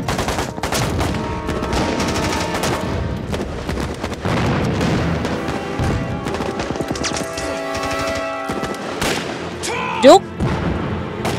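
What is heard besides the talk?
gunfire in a battle, film sound effect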